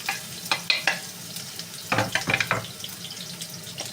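Onion and a few garlic cloves being stirred in a pan for a stew, with soft sizzling under repeated scraping and clinking stir strokes, close and fairly quiet.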